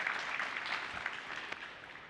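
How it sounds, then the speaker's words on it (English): A studio audience claps steadily for a guest arriving on a tech show, a dense, even wash of applause heard at a distance and slightly muffled throughout. "Give him a round of applause."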